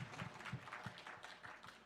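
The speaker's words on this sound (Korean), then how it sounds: "저봐 지금 박수 치는 거 봐봐" Faint rhythmic clapping at a Sunday church service, evenly spaced claps repeating at a steady pulse, heard from a distance.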